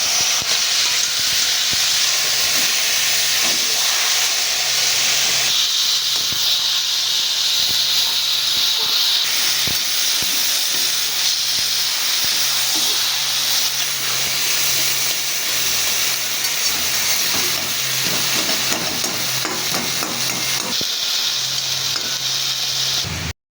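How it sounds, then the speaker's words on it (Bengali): Taro leaves tipped into a hot pan with grated coconut hiss and sizzle loudly and continuously, a dense steady crackle with faint clinks beneath. "রাখা কচু শাকগুলো আমি ঢেলে দিচ্ছি।"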